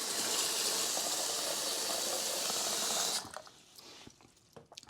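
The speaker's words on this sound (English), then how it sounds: "what you do is you wanna make sure that you fill the bucket up" Water from a sink tap gushes loudly into a bucket for about three seconds, a steady hissing rush that cuts off and leaves light drips and clatter.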